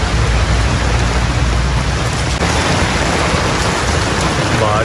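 Heavy storm rain pours down steadily and loudly in Shahpur, Gujranwala, a dense unbroken roar of downpour with thundery rumble underneath, no voices.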